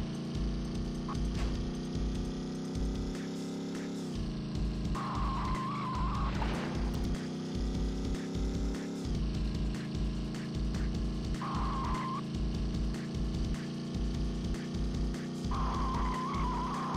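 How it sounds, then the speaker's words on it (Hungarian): In the PlayStation racing game Test Drive 4, a car engine drones steadily while short tire squeals recur several times, with clicking mechanical noises and brief gear-shift dips in between. "Hallottam, hogy valahol egy csikorgott a gumi."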